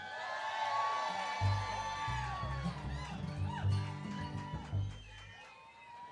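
Concert crowd at a Poppy Mountain bluegrass show cheering and whooping, a loud continuous roar of many voices with scattered shouts swelling and dipping across the whole stretch, with music or talk mixed beneath.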